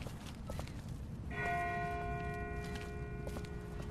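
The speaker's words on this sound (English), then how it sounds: "That's not the same bell as before. This one's further off." A single bell in The Walking Dead rings out faintly in the distance, one clear tolling strike that hangs and slowly decays over a quiet, rustling background.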